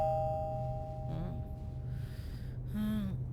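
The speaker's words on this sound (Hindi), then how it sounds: "दरवाजे की घंटी।" A doorbell rings with a bell-like tone and slowly fades, then gasping, breathy voice sounds follow.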